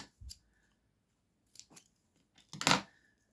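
Scissors snip through scored card for a folded card-making project, a few short separate cuts with pauses between, the last one louder and fuller, close by with no talk.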